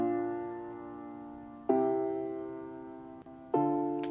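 Sustained piano chords played on a software plugin without sevenths, three struck chords about two seconds apart, each ringing and slowly decaying, clear and moderately quiet, with no voices.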